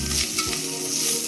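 Maggi masala stirs through a hot, sizzling tadka tempering in a pan, making a steady, close, bright frying hiss with a soft scrape of the spoon across the pan, heard alone without any talk.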